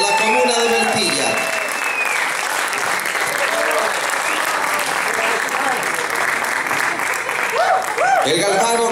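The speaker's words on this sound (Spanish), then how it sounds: "El aplauso de este auditorio en el Centro Cultural Teatro Serrano" Auditorium audience at the Centro Cultural Teatro Serrano applauds loudly for a band's 25th anniversary concert, a sustained roar of clapping and crowd noise with a voice heard briefly at the start and end.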